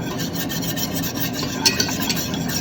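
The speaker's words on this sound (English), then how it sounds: "keep on whisking" A whisk rasps steadily around a pot of roux for chicken and sausage gumbo, a continuous close scraping and stirring with a couple of brief knocks, no voices.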